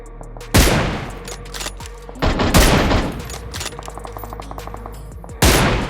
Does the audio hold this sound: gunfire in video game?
yes